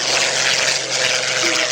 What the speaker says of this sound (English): taxiing out. We have the Swordfish and Firefly of the Royal Navy